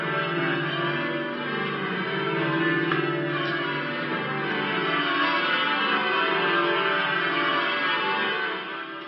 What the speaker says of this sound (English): The milestone was celebrated today with a special performance by Leicester Cathedral's bell ringers.